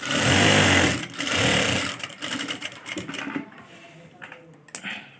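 A sewing machine sews a straight seam on a dress neckline in short loud bursts that start and stop, followed by fabric handling and light clicks.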